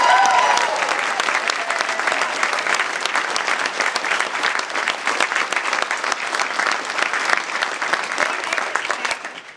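An audience claps loudly and continuously at a Democratic brunch gathering in Falmouth, Massachusetts, with dense sustained applause and crowd noise that holds steady before tapering slightly at the end.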